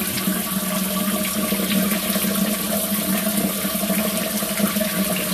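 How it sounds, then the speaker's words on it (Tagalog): Water streams steadily from a newly assembled rain shower head, a constant hissing spray at moderate level with no pauses and no voices. "At ayan, gumagana na ang ating shower."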